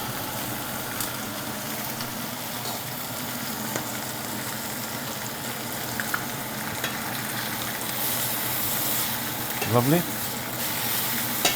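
Meat on the bone frying in a pan gives a steady sizzle with stirring and scraping throughout, and a brief spoken word partway through.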